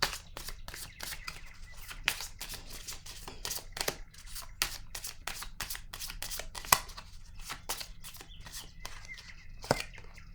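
A deck of tarot cards is shuffled up close, giving quiet, rapid, irregular papery flicks and soft slaps of cards riffling against each other, with no talking.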